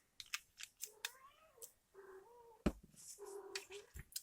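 A cat meows several times up close, drawn-out rising and falling cries mixed with short clicks and taps around it, fairly quiet with no voices.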